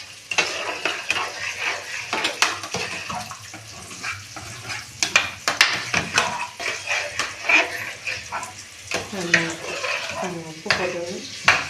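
Curry leaves tossed into hot oil and stirred in a pan for a home-cooked lunch, crackling and sizzling steadily with repeated scraping and clinks of a spoon against the metal pan, close and fairly loud, no talking.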